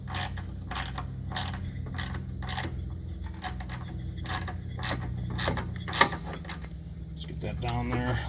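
A hand ratchet clicks in quick repeated bursts while tightening a nut on a poly rotor paddle of a single-stage snow blower, close and fairly quiet, with light creaks between strokes.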